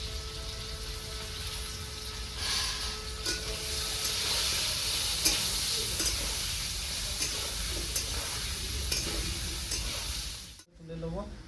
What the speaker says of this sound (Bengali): এই তেলে আমি আলুটা ভেজে নেবো